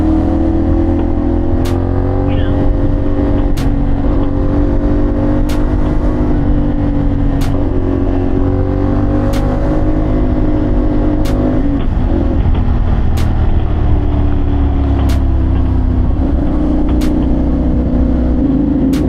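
Steady, loud road traffic with cars and other vehicles passing continuously close by, engine and tire noise filling the scene with no talking.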